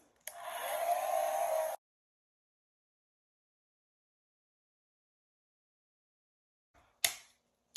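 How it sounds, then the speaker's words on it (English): A hair dryer roars steadily for about a second and a half, then cuts off; after a long silence, a brief second blast sounds near the end. "a blow dryer, and then I'm going to dry all of this."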